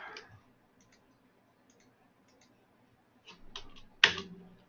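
A computer mouse clicks Save while building a WordPress page, giving a single sharp, close click near the end among faint keyboard-like ticks in a quiet room.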